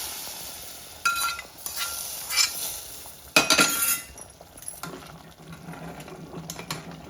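Pongal being stirred in a pot on the stove with peppercorns just added, giving soft sizzling and scraping strokes with occasional clinks of a utensil against the metal pot, close and with no talk.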